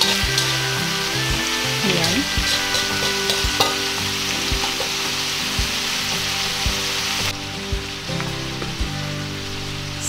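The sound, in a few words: fish frying in a pan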